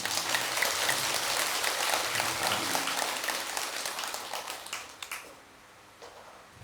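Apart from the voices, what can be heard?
audience applause at a Buddhist dharma talk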